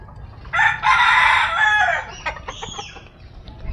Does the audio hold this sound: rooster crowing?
yes